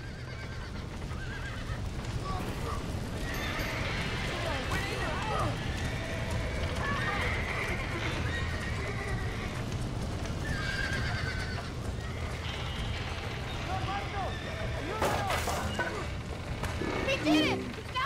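Horses whinny and neigh amid hoof clatter inside a burning barn in Red Dead Redemption, their cries rising over a dense, roaring background with voices talking through it.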